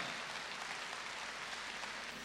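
A concert hall audience applauding in memory of a composer, dense continuous clapping heard at a quiet, distant level without voices.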